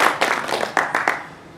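Brief scattered applause from an audience at a talk on Judaism, a handful of distinct claps that fade out quickly within a second and a half.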